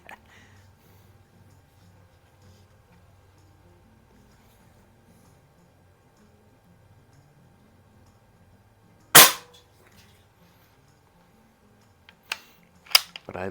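A Benjamin 352 .22 caliber CO2 rifle fires at cans: a single sharp, loud crack stands out against near silence, followed by a few smaller clicks and snaps.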